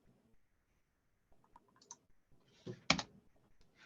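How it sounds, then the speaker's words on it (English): Light, scattered keystrokes tap on a computer keyboard during a software demo, a few soft clicks building to one sharper cluster near the end, quiet and close with no voice. "let's see if I can type this right this time."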